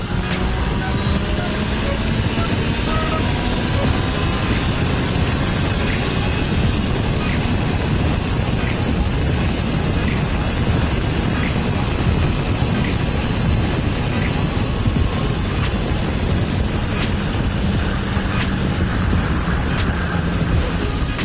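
Constant loud roaring wind off a Yamaha Tracer 900 motorcycle windshield at speed, a dense unbroken rush with a low engine drone beneath and faint periodic ticks.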